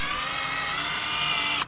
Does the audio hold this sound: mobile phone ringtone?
no